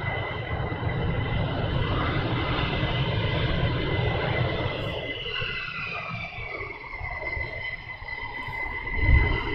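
Military jet at RAF Lakenheath roaring with a steady, loud engine rumble and whine from a moderate distance, the tone slowly shifting as it moves.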